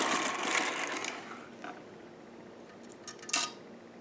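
A vintage Sister toy knitting machine carriage is run across the needle bed, giving a dense mechanical swish and rattle that is loudest at the start, then fades, with a brief clatter near the end.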